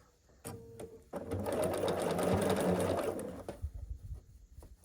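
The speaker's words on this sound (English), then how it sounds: "And then we will sew down this side here." A sewing machine stitches quilt blocks for a scrappy sampler, a steady close mechanical whir that runs for about two and a half seconds after a brief start, with quiet handling before and after.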